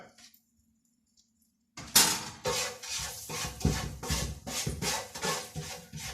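Turmeric and coriander powder being stirred into a cooking pot, a run of repeated scraping, rubbing strokes of a utensil against the pan after a quiet start, close and fairly steady.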